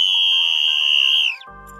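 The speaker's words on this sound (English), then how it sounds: "I had to blow my whistle real quick." A whistle blown by a speaker in an indoor setting gives one long, loud, steady shrill tone lasting over a second, then cuts off abruptly.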